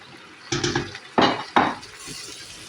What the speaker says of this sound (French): Hop, on remue bien.